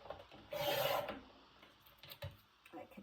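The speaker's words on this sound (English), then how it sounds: "I could trim that one just a smidgen more, and I will." A paper trimmer cuts an 8.5 by 11 scrapbook layout page, giving one short, faint rasping slide, followed by a few soft taps and rustles.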